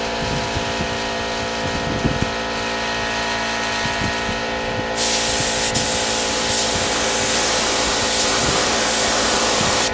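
A paint spray gun hisses onto a custom windshield for a 2020 Yamaha MT-09, starting as a lighter spray and then opening into a louder, broad, steady rush of air and paint up close.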